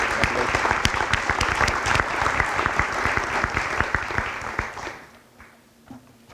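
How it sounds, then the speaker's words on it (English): Audience applause at a spring high school sports awards ceremony: dense, loud clapping from a large crowd that holds steady for about five seconds, then thins out to a few scattered claps. "Let's give another big round of applause for Luke."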